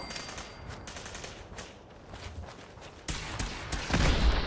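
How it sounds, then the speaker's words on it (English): Raiders fire rapid bursts of gunfire in a Fallout 4 survival fight, clustered cracks in the middle distance that swell into a louder, denser volley near the end, with no voices over them. "Oh, they're shooting at me now?"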